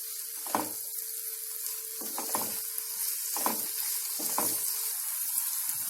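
Onions fry in oil in a pan over medium or low flame, a continuous hissing sizzle cut by four or five short scraping stirs spaced about a second apart, under a faint steady hum, no voices.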